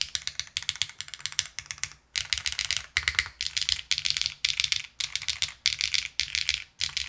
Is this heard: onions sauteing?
no